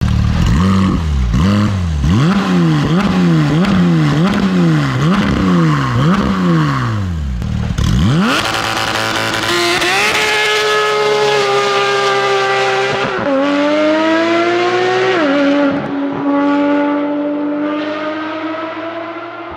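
Porsche 911 GT3 RS engine revving hard toward 9000 rpm, a loud rapid series of rising and falling rev sweeps followed by a sustained high wail climbing through upshifts, heard alone without talk.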